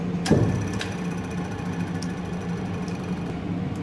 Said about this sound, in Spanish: activar un motor trifásico alimentado por una corriente de 200 voltios